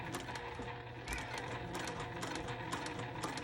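Sewing machine stitching a quilty fabric patch, a rapid, even mechanical chatter of needle strokes with small rhythmic ticks, close and fairly quiet, with no talk.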